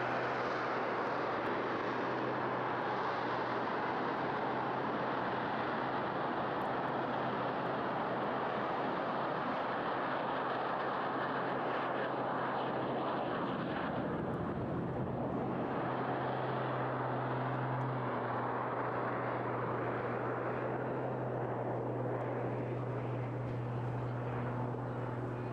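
Display aircraft hovering over the beach at the Eastbourne International Airshow, a steady broadband roar with a droning low engine hum that holds throughout and deepens slightly mid-pass, distant and continuous with no talk.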